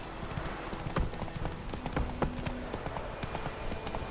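Horse hooves clip-clop at a steady walking pace in The Witcher 3, close and fairly distinct, with soft ambient game background beneath and no voices.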